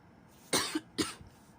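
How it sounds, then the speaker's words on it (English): Two short, sharp coughs close to the listener, about half a second apart, with quiet in between. "Just got a cough."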